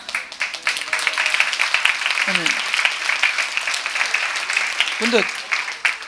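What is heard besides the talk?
congregation clapping at New Year's service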